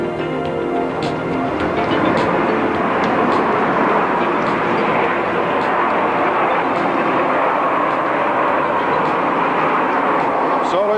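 An Aermacchi MB-339 jet flies a solo airshow manoeuvre, a steady, broad roaring engine rush that swells gently throughout, with a commentator speaking over the public address.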